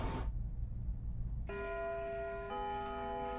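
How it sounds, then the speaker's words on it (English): A school bell rings in the Lucid9 video game, a sustained tonal chime that starts abruptly after a low ambient rumble, with a second higher tone joining partway, clear and loud without speech. "When the bell rings,"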